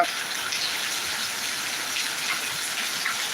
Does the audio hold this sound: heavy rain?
yes